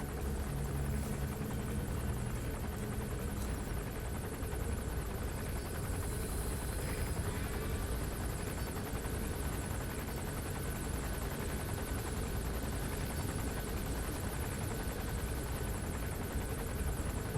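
Helicopter in Metal Gear Solid V: The Phantom Pain, a steady loud rotor drone that holds unbroken from start to finish with no voices over it.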